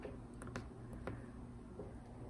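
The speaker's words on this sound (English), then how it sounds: "So I can just type a message here" A few scattered, quiet key presses on a computer keyboard as a short message is typed, soft clicks at an uneven rhythm over faint background hiss.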